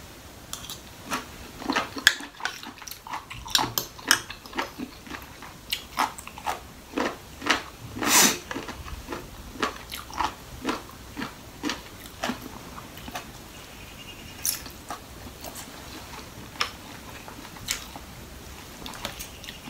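Close, crisp crunching and chewing of a Thai papaya salad platter with shellfish, in irregular bites spread throughout, with a few sharper clicks of utensils against a dish.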